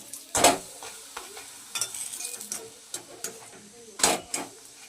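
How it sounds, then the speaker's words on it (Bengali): Spinach paratha fries in oil in a pan, a soft sizzle broken by sharp, irregular scrapes and clatters of a utensil against the pan, close and fairly loud. "এইভাবে একটা একটা করে ভেজে নিতে হবে তেলে।"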